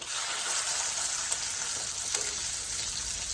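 Crushed garlic, mustard seeds and cumin sizzle steadily in hot oil, a dense close-up frying hiss with faint crackles and pops throughout and no voices.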